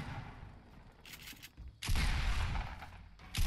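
Gunfire in the video game Fortnite during a build battle, with bursts of loud, dense shooting that start and stop abruptly over quieter in-game background sound.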